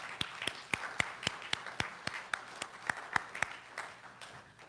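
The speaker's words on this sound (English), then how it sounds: "So let us just give all the mothers a big hand." An audience at a talk on the universal mother applauds the mothers, with sharp, irregular claps spread across the room for a few seconds and no voices.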